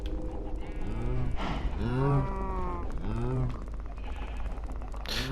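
Cows low in Minecraft, several long harmonic moos in sequence, each swelling and falling, loud and close over a steady noisy background with no talk.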